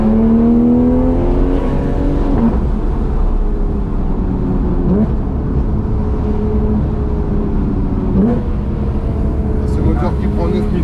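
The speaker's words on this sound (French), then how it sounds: "Ce moteur qui prend 9000 tours, c'est quand même une symphonie." A Porsche 911 GT3 RS engine revs repeatedly toward 9000 rpm, with rising pitch sweeps and shifts heard from inside the car, loud and continuous under a constant road and engine roar.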